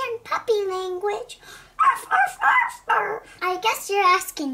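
A person imitates a puppy with high-pitched, whiny yips and whimpers in a playful toy-doll Halloween scene, the voice rising and falling through several close, fairly loud bursts.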